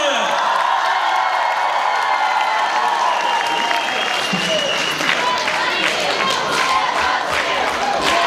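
Stormy concert applause for a band at the 2016 Dastukatstsa Da Nyabyosau show: a thick, continuous wash of clapping from a large crowd, mixed with cheers, whoops and shouting voices.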